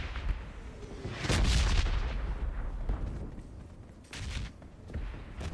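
Bombing-zone explosions in PUBG Mobile thud and boom at a distance, with one heavy blast and several smaller bursts rumbling through the scene.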